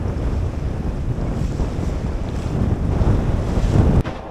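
High winds and building seas buffet a 21-foot sailboat on open water after leaving New York Harbor, a loud continuous rush of wind noise and surging waves with no talking.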